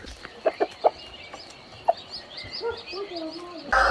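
A few short clucks pop out early, followed by a rising, warbling hen call; a sudden burst of noise cuts in at the end.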